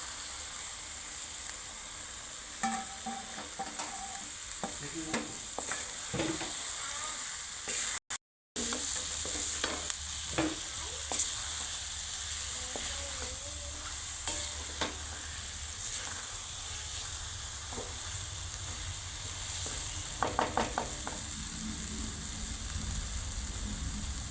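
Steady sizzling and crackling of eggs frying in oil, with occasional scraping stirs and light clinks, continuous throughout with a brief dropout midway.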